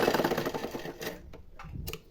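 Sewing machine stitching a quarter-inch line on a blouse seam, a quick burst of rapid mechanical clatter that slows and breaks into a few separate taps, fairly quiet.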